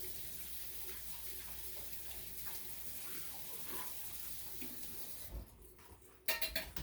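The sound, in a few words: washing a canning jar lid under the tap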